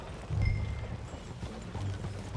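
Horse hooves clip-clop in the Red Dead Redemption 2 video game, a soft, fairly quiet rhythmic plodding of a few steps with no talking over it.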